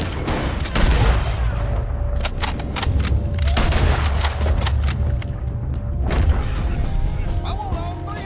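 Gunfire in the video game Red Dead Redemption 2: several sharp shots burst out at irregular intervals over a dense, loud game soundtrack, with occasional voices mixed in.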